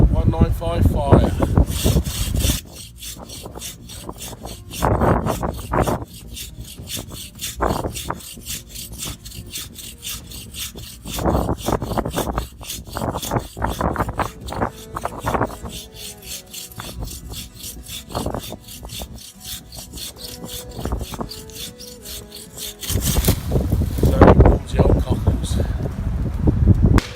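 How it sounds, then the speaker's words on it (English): Fallen wood cut by hand with a saw during a January outdoor camp in Suffolk, rasping strokes in repeated bursts, close and loud, with wind noise and some talking in between. "we're going to cut as much as we can"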